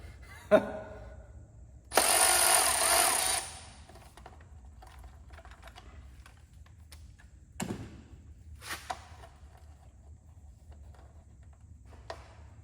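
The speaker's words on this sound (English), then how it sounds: "Make sure to use power tools when you're removing drain plugs" A power tool whirs in a short burst of about a second and a half removing an engine drain plug on a small-block Chevy, followed by scattered light clicks and metallic taps.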